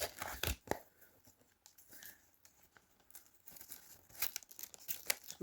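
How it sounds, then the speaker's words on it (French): Gift wrapping paper being handled, crumpling and crinkling in bursts with short tearing rips, close and fairly quiet, with pauses between handling sounds. "j'étais en train d'emballer tout le cadeau."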